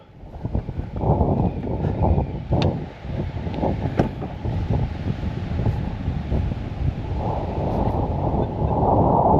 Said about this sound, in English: Dude, it's really windy.